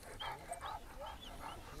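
A Kangal shepherd dog makes short whimpering yips and soft vocal bursts in quick succession, fairly faint and close, with no talk over it.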